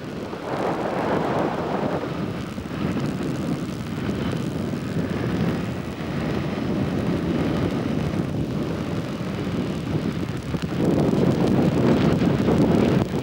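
A microlight aircraft engine drones steadily and loudly as it comes down to land on a dirt track beside a road, with wind buffeting the microphone and the engine note rising again near the end.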